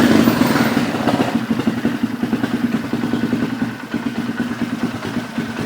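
Polaris Sportsman 500 ATV idling nearby with an uneven, lumpy putter and mechanical clatter, steady throughout with no talking.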